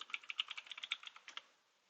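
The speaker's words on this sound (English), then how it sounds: "and then simply type NetBeans" Computer keyboard typing, a quick close run of about a dozen light clicking keystrokes lasting just over a second before stopping, with no talking.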